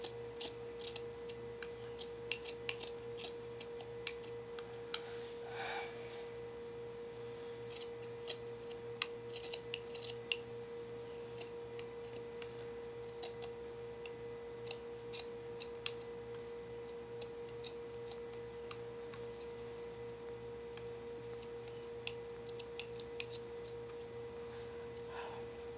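Sparse, quiet snipping clicks from scissors cutting a shirt's fabric come at irregular intervals over a steady electrical hum.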